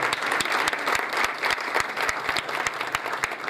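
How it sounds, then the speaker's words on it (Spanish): An audience gives a rhythmic round of applause for an economist at a talk, loud, close and steady, with a sharp beat that repeats evenly. "Un aplauso antes que nada, ¿no?"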